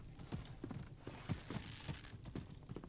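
Horse hooves clop in the medieval combat game Mordhau, a quick run of evenly spaced, moderately close hoofbeats over faint background ambience.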